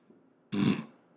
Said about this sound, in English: Burping. I got to burp,